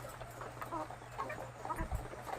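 Ready-to-lay chickens cluck and squawk at feeding time on a farm, with a steady chorus of overlapping hen calls at close range and no talking.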